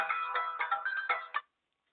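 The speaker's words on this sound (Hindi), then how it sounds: "अबे सिंधु, अबे घंटी जा रही, फोन उठाया, देर हो गई है।" A short electronic phone ringtone melody plays a few quick notes at moderate volume, then cuts off into silence.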